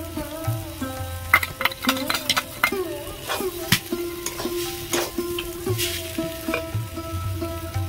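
Chillies sizzle and fry in a pan for banana-blossom chops, with repeated stirring clatters of a spoon against the pan over a steady close-up hiss, and no voices.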